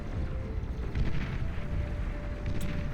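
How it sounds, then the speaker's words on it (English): Steady rumbling barrage as a Platypus unit fires in a Beyond All Reason 8v8 deathmatch on a lake map, a continuous dense roar of distant booms and explosions. "Platypus firing away"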